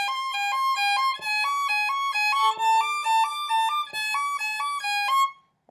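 A violin plays a passage from the first violin part of Swan Lake in tempo, a steady run of clear sustained notes stepping up and down in even rhythm, played alone and ending abruptly.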